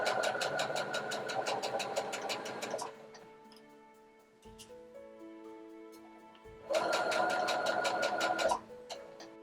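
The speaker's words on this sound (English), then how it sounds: "we're going to slowly sew a straight stitch along this edge" A sewing machine runs a slow straight stitch along a fabric edge, with a steady rapid mechanical ticking hum in two bursts and a quieter pause between them, close and alone.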